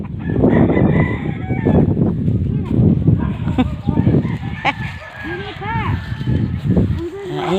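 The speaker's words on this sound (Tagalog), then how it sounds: "ang daming manok" Chickens clucking close by with a rooster crowing, mixed with people talking over the busy farmyard noise.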